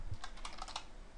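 Someone types briefly on a computer keyboard, a quick close run of several light key clicks with no talking.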